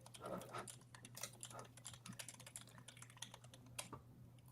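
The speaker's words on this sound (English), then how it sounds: "There's some really passionate typing happening somewhere." Someone types quickly and steadily on a computer keyboard, a faint patter of rapid clicks over a low steady hum.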